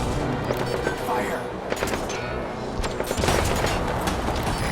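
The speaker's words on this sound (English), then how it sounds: "I don't care who you shoot as long as you keep shooting." Continuous gunfire and explosions in Metal Gear Solid V: The Phantom Pain, loud, dense and chaotic throughout, with repeated sharp shots over a rumbling battle backdrop.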